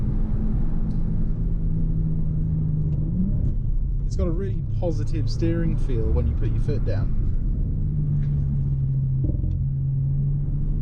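A 2017 Audi RS5 drives on the road, its engine giving a steady low rumble with a brief rise in pitch mid-way as it pulls, heard inside the cabin under someone talking.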